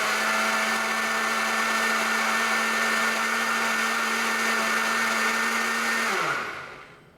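A blender whizzes nettle soup in one loud, steady whir for about six seconds, then winds down and fades as it is switched off.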